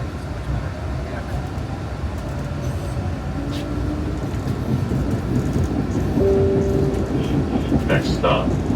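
A Boston T subway train rumbles steadily along the track past Chinatown toward Forest Hills, a constant loud roar with faint rattles and brief tonal whines, heard from inside the car.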